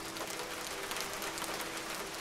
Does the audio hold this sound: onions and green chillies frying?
no